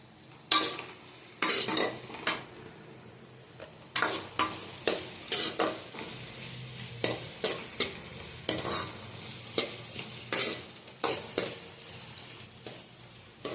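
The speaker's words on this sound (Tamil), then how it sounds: "நல்லா வதக்கிக்கணும்" A handful of curry leaves and green chillies sautéing in a pan for a Jilebi fish curry, steady sizzle under a regular run of sharp spatula scrapes and clinks against the pan, no speech.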